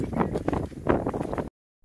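Wind gusts across an open hilltop plateau on the Konkan coast, buffeting the microphone with loud, uneven rumbling bursts for most of the moment before cutting off abruptly.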